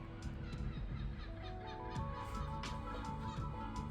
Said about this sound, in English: Thanks Seagulls for the commentary.